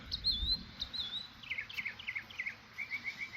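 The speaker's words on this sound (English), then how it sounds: "Birds are singing." Small birds chirp and trill in a garden after rain, a quick series of high twittering calls at moderate distance over quiet background.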